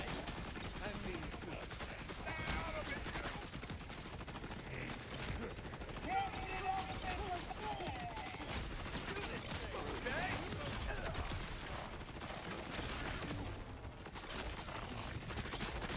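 Rapid gunfire from weapons in the video game Borderlands 4, dense bursts running steadily throughout with heavy recoil, mixed with game sound effects and someone talking over it.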